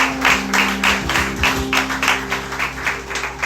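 A church congregation applauds during a service, a steady wash of clapping lasting throughout with sustained organ or keyboard tones underneath.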